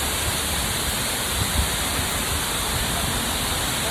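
Waterfall at Khorfakkan in the UAE, a steady dense roar of falling water that fills the whole clip at an even level, with no talk over it.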